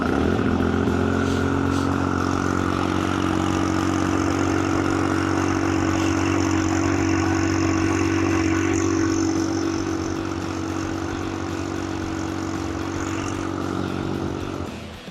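Liquid-cooled three-cylinder Kubota gas engine on a Grasshopper mower running steadily, a close, loud, even drone with light mechanical clatter, easing slightly toward the end.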